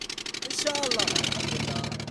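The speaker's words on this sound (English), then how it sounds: "The sea is beautiful, but the boat's engine doesn't work well." Worn-out engine of an old wooden smugglers' boat crammed with passengers at sea, a rapid steady chugging pulse under wind and water noise, with a voice talking over it.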